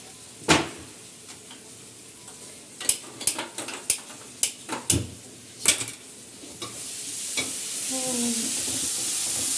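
Masala spices frying in a pan before paneer is added, a soft steady sizzle underneath several sharp clanks of a utensil against the pan, with the metallic knocks clustered in the first half and the sizzle carrying on alone after.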